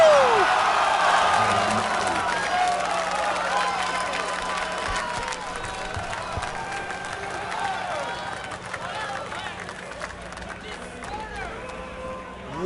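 A large crowd at the MLG Dallas 2011 Halo Reach tournament cheers and applauds loudly after a Team Slayer finish, a steady roar of clapping and shouting that eases slightly but holds throughout, with voices mixed in.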